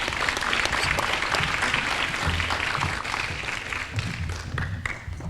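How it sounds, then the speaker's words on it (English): Clapping from the crowd at a Healthy Teens Coalition teen pregnancy prevention awards ceremony honours young health educators, a thick continuous round of applause with a few louder individual claps standing out near the end. "One more time, everybody, a big round of applause for that group of young people."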